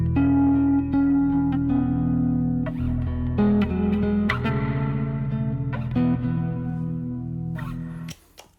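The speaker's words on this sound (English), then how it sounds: "I use a reverb effect that'll sound something like this." Bass guitar run through a reverb effect for a worship song bridge, playing a sequence of melodic notes with a washy, ringing tail, loud at first and decaying softer toward the end.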